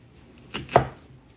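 A knife rough-chops an onion on a cutting board for jambalaya, making two close, crisp chopping thuds in quick succession, with the second one louder.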